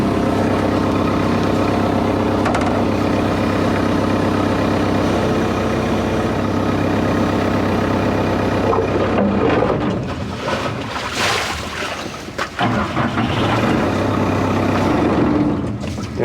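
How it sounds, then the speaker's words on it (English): A broken excavator's engine, just restarted, idles with a steady low drone and even rumble. After several seconds it turns rougher, with clattering and uneven surges. "It's just idling pretty nice now"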